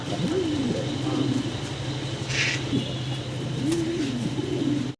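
Fancy pigeons coo in soft, rolling low calls, several bursts close by over a constant background hum, with someone talking at the same time.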